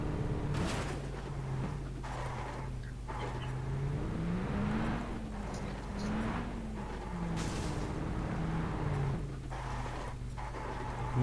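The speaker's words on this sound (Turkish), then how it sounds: "Bu araba tepeye çıkıyor." A car climbs a hill in PUBG Mobile, its engine a steady droning hum that rises and dips in pitch as it strains upward, continuous and unaccompanied by talk.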